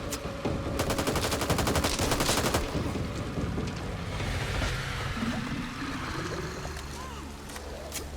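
Rapid automatic gunfire from video game weapons in a solo veteran-difficulty mission, with dense loud bursts mowing down enemies, then continuing sporadically amid game ambience.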